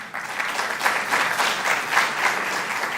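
A crowd at a speech event in New York claps steadily for a few seconds, a dense, even wash of applause with no voices standing out.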